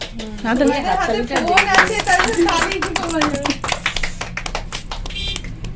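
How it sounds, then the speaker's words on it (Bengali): Hands clap repeatedly at a 16th birthday celebration in a beauty parlour, the quick claps running on under cheerful voices at first and then continuing more clearly, close by and fairly loud. "এই হাততালি দাও হাততালি দাও"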